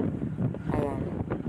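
Strong wind buffets a moving vehicle on the road to Barangay Binakas in Lubang, Occidental Mindoro, a steady rough rumble under a voice speaking throughout.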